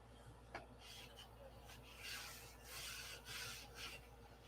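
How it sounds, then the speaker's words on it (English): A model airplane wing for a P-47 is sanded by hand, a faint, steady raspy rubbing with repeated strokes, quiet and close in a workshop. "We'll give this another sanding before it gets covered."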